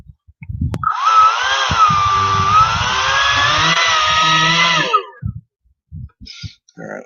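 A custom-assembled EDF ducted fan unit spins up into a loud, buzzy whine with a wavering pitch, holds for about four seconds, then cuts off abruptly, leaving brief talk and clatter.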